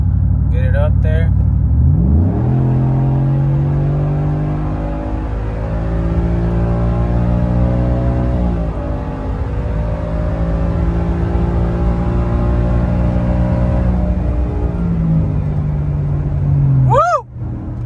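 A 2007 Toyota Yaris with new headers and intake manifold accelerates hard on a street, its engine note climbing steadily through the gears with short dips at each shift, loud and close, ending in a brief whoop.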